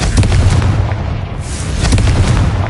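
Booming blasts from the Confringo fire spell in Hogwarts Legacy come in loud, close bursts, one early and another near the two-second mark, over rumbling background.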